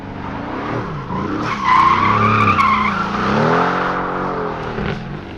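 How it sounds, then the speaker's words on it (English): A 2020 Mercedes AMG GT R spins a donut on a track with traction control fully off, its tires squealing loudly over a revving engine for several seconds. "So obviously it can do a donut with traction all the way off"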